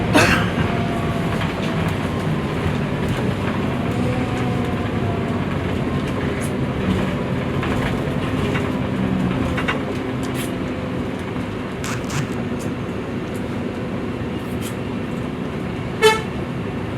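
A TransJakarta bus pulls away from a stop and rolls along a toll road, its engine and road noise forming a constant close rumble, with faint clicks and a brief horn-like tone near the end.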